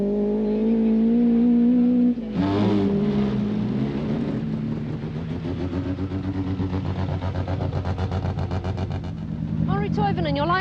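A two-wheel-drive, non-turbo rally car revs hard on a forest stage in the 1985 Lombard RAC Rally, its engine note rising and falling as it slides through a left-hander. A commentator talks over it throughout.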